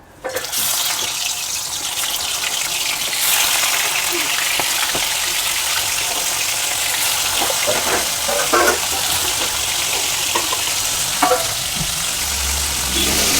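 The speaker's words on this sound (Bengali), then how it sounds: "কড়াটা আমার গরম হয়ে গেছে, দেখতেই পাচ্ছেন। আমি এবার মাছগুলো ছেড়ে দেব।" Fish pieces fry in a hot pan, a dense steady sizzle and crackle close by with occasional scrapes and taps of a utensil, lasting the whole stretch.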